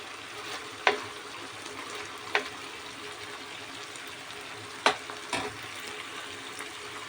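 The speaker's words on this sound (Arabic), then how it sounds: "يا جماعة الكفتة بتتحمر اهي" Kofta frying in a pan of oil, a soft continuous sizzle with a few sharp clinks and bumps as pieces are moved, close and quiet, no talking.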